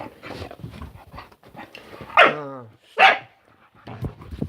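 Dogs squabble indoors with sharp barks and yips, two loud bursts standing out above scuffling and whimpering noise. No one speaks over them.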